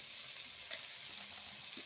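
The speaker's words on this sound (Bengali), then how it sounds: "আর একটু লাল লাল করে ভেজে তুলে নেব।" Dried chili and vegetables, eggplant and pumpkin peel, frying in a pan: a steady, fairly quiet hiss with a faint soft knock partway through and no voices.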